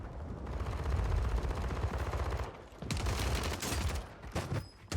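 Rapid, continuous Striker 9 fire in Call of Duty Warzone, loud and dense for several seconds, breaking briefly and then resuming in a second sustained burst.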